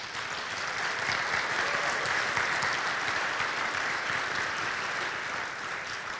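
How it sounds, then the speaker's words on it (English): Audience applause at a leadership talk, steady dense clapping from a crowd that swells slightly and then fades near the end, with no talk over it. "So if we could all recognize them with some applause."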